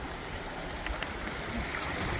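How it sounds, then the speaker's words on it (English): A mountain creek flowing along a washed-out stretch of trail, a steady, soft rushing of water heard close by with no voices. "we're back in the creek again"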